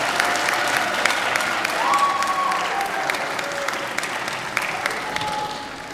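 An audience at a nursing department graduation celebration applauds for the graduates' loved ones, a sustained, dense round of clapping with a faint murmur of the crowd underneath.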